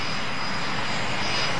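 A fighter jet's engine roars, loud and continuous for the whole moment, with no change in pitch and no voices.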